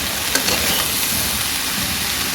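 Okra fried in a pan, loud dense crackling sizzle filling the whole moment, steady and close with no talking.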